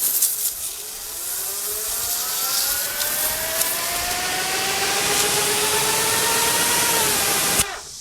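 A small power sprayer engine runs with a steady whirring hum that rises slightly in pitch, then cuts off abruptly at the end.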